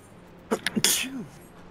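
A single sharp human sneeze, preceded by a couple of short intake bursts, fairly close and clear over a quiet room background during a Final Fantasy XIV raid session.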